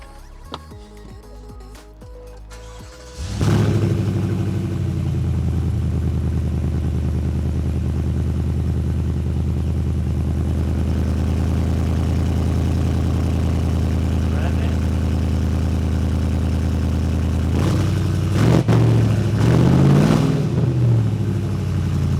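A 2023 GMC Yukon AT4 with long-tube headers and a custom exhaust cranks and fires up, then settles into a loud, deep, rumbling idle with a throaty exhaust note, revving briefly near the end.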